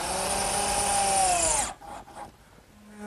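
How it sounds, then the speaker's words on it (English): A power drill drives 1 1/4 inch screws to fasten a wooden cricket table base to its top, one sustained loud whirring burst that winds down abruptly, followed by quieter handling clatter. "fasten it with some 1 1/4 inch screws"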